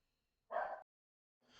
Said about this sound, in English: My dogs were barking at someone outside.